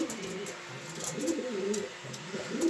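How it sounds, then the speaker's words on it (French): Pigeons coo softly in a loft, a continuous low burbling of several birds close by, with no talk. "Donc le pigeon que vous voyez là, c'est un pigeon de 5 ans qui a fait prix à Jeanne l'année passée."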